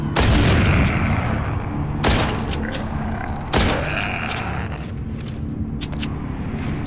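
Gunfire in the video game The Walking Zombies 2, three loud booming shots spaced about one and a half seconds apart, each decaying into a rumbling tail, no voices.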